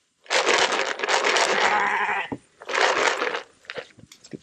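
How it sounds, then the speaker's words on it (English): Goats and sheep on a farm bleat loudly and close by, two long overlapping cries followed by a few shorter, fainter calls and shuffling. "Looks like we're also going to get some sheep too"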